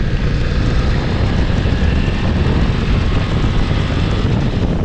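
BMW F900 XR motorcycle engine while riding, a steady loud drone mixed with heavy wind rush, continuous for the whole stretch with no breaks.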